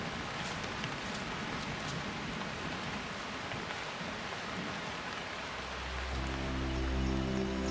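Monsoon rain falls steadily along the west coast of South India, a dense even hiss of drops, joined near the end by a low sustained musical drone.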